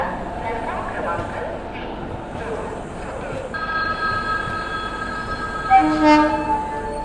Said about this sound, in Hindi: बाकी उस और से कोई ट्रेन भी अराइव कर रही है भुसावल जंक्शन पे।